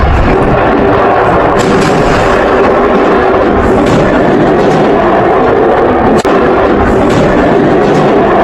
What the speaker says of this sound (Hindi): पटाखा फैक्ट्री में भीषण धमाका।